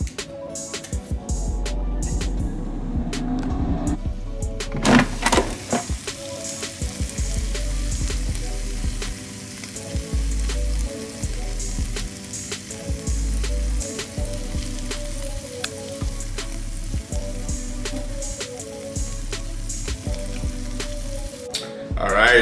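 Chicken wings cooking in an air fryer at 400 degrees give a steady hiss with crackling sizzle and a low fan hum, mid-distance and continuous for the full stretch, with a few clicks and bumps near the start and end.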